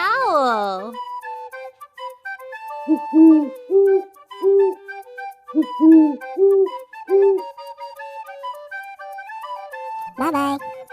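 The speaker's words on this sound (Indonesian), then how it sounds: "Burung hantu. Owl." An owl hoots in a series of soft, evenly spaced calls, clear and close, with a short spoken word at the start and again near the end.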